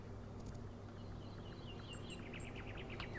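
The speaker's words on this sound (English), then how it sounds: "Do you hear the birds chirping outside the dome?" Birds chirp outside a dome in The Talos Principle 2, with quick scattered high tweets and short calls over a constant low ambient hum, faint and distant.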